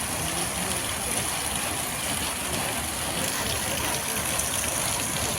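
Water gushes steadily from a newly installed borewell motor pump in a town ward, a continuous broadband rush with a constant high hiss and no talk over it.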